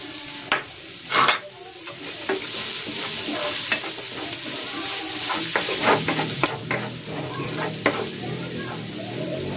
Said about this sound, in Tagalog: Igigisa ko na tong bawang. At ang sibuyas.